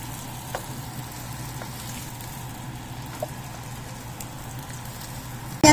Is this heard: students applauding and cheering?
no